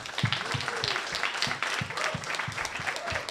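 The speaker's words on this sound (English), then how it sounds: "can we give it up for Benji first of all" Comedy show audience breaking into loud, sustained applause for an open-mic performer, dense clapping filling the room throughout with a little crowd noise mixed in.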